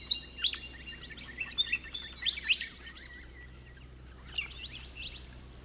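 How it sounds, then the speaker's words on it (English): Birds chirp and tweet at dawn in quick, bright bursts, several calls overlapping, with a pause before a shorter flurry of chirping resumes near the end, in Culgoa Floodplain National Park. "When the golden glow of the sun engulfs the horizon, the bird life begin to appear."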